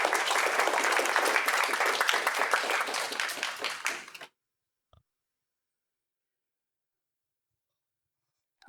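An audience at a student union annual members' meeting breaks into applause, many hands clapping densely for about four seconds before fading quickly into silence, with a faint knock and click afterwards.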